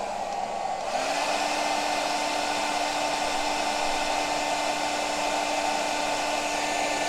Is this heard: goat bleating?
no